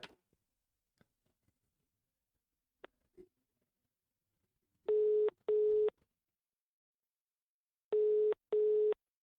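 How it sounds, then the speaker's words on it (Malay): Telephone ringing tone heard while a call connects: two pairs of even, clean double beeps separated by a pause, clear and alone against near silence. "Mari kita telefon beliau."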